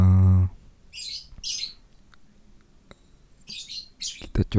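Small birds chirp in short high bursts, a few scattered calls near the start and a denser cluster toward the end, faint and somewhat distant, with no talking over them.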